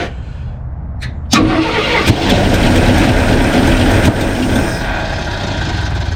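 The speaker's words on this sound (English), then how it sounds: "Start it up. Keep spinning on it." A 1968 Ford F100 junkyard truck engine cranks briefly, then catches and starts, settling into a loud, rough, steady idle close by.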